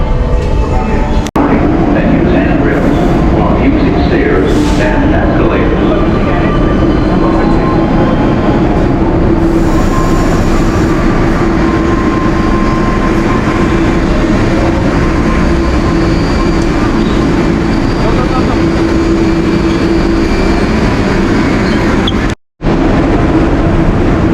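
Steady rumbling roar of a New York City subway train running, continuous and loud throughout, with a brief silent dropout near the end.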